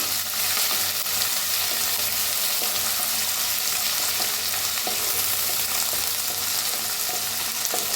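A pounded paste of crushed garlic, green chilli, ginger and coriander roasts in a hot pan with a steady, dense sizzle, and occasional scrapes of stirring run through it from start to finish.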